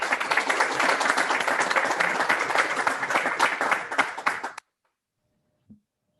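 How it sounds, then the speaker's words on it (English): A virtual symposium audience applauding with loud, dense clapping that holds steady for several seconds, then cuts off abruptly into silence broken by one faint low thump. "Can we get another round of applause?"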